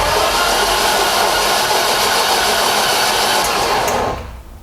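A BMW M42B21 four-cylinder engine cranks on the starter with a loud, close, continuous mechanical whirring drone that stops abruptly just before the end, with no talking.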